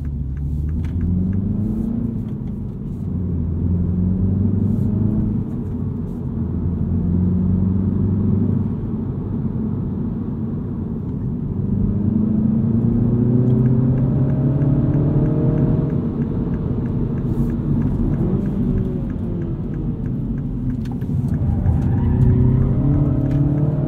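A 2022 Mini Cooper S manual two-door hatchback drives at a steady pace, its engine a continuous rumble with gentle rises and falls in pitch as it accelerates through corners, with road and tyre noise underneath and no talk.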